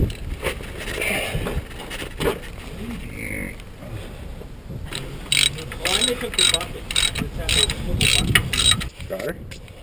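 A ratchet wrench clicks in short bursts while a starter is taken off a car in a junkyard, close up, with pauses between the bursts, wind noise on the microphone and someone talking at times.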